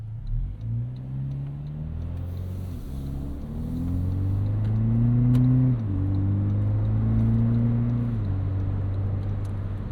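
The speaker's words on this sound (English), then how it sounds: "Mostly smooth shifts from that 8-speed automatic." A 2025 Toyota 4Runner TRD Pro turbo hybrid SUV with an 8-speed automatic drives along, its engine droning steadily and rising in pitch through several distinct upshifts, each followed by a step down in tone, with no talk over it.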